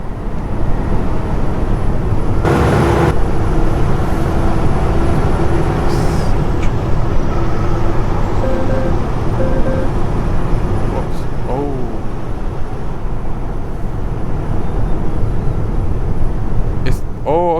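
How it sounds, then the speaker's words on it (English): Truck driving in Euro Truck Simulator 2 with ProMods, a low steady engine and road drone, with a brief air hiss burst and faint warbling tones layered on top. "Okay, that was the truck sound."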